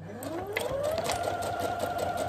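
Sewing machine running a forward-and-reverse stitch on fabric while making a project bag, a steady close motor whir with rising pitch as it speeds up, heard alone.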